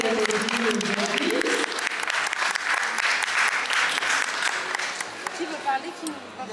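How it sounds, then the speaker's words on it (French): Audience applause for a contestant at a pin-up competition, a lively burst of clapping from a crowd, sustained and then tapering, with a voice talking over it at the start and end. "On peut applaudir pour Maléa"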